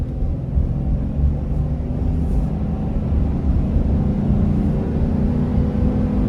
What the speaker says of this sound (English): we'll give it just a little bit of throttle coming up this incline